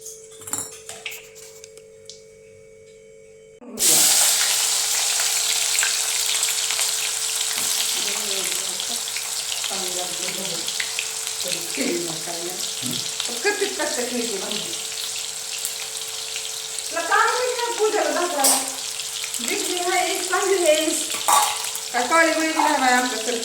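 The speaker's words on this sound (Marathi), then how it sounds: "ते अशा प्रकारे तळून घ्यायचं चांगलं तळलं" Raw banana pieces frying in oil in a home kitchen, a steady close sizzle with intermittent clinks and stirring noises after a brief quiet start, no talking.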